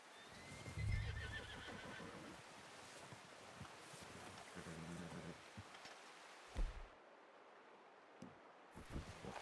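A horse whinnies loudly near the start in Red Dead Redemption 2, followed by hoof clops and lower snorting over steady wind and surf-like ambience, with scattered thuds toward the end.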